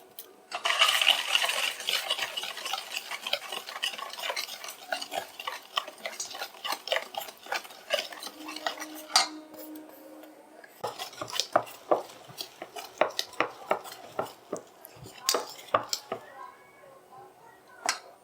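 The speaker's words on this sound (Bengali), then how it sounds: "এবার আমি শুকনো উপকরণগুলো আস্তে আস্তে দেব আর ঘাঁটতে থাকবো" A spoon stirs dry ingredients into melted sugar in a metal pot for an eggless palm cake batter, with repeated clinking scrapes and taps against the pan in an irregular rhythm, close and fairly clear.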